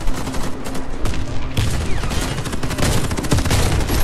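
Heavy gunfire and explosive bursts from a grenade launcher and Saiga bullpup weapons in the shooter game Warface, dense and continuous across the whole stretch with sharp repeated shots, loud and close.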